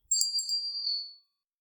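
A YouTube-style subscribe notification bell rings once, a bright metallic ding that rings out for about a second and then fades, with no other sound.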